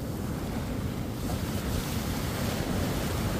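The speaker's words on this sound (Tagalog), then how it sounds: "Grabe ang lakas, ang puwersa ng dagat no." Powerful sea waves surge and crash continuously against the shore, a loud, dense roar of churning water with heavy wind buffeting the microphone throughout.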